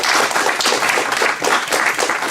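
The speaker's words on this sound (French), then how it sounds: "on peut l'applaudir encore une fois" Loud, close clapping fills the hall as an audience applauds a speaker after a history lecture on the BCRA in Free France, steady and dense throughout.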